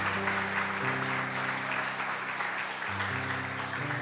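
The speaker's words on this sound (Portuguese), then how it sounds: "Aplauda o Senhor pela vida dele, amados." A church congregation claps together at a steady level while sustained organ or keyboard chords hold underneath, the applause filling the room without voices on top.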